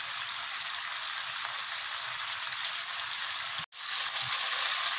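Tandoori chicken fries on a tawa over a medium flame with a steady, close, even sizzle throughout, broken only by a brief sharp dropout near the end before the crackle resumes.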